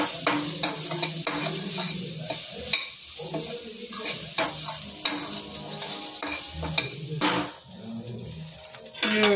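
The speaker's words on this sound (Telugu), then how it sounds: "ఇంకా అన్నం వేసుకొని కలుపుకోవటం." A spoon scrapes and stirs cooked rice with puliyogare powder in a warm pan, with repeated knocks against the metal and a soft sizzle underneath.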